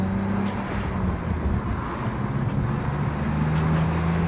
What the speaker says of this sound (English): See, when I go into low gear, it kind of pops a little more.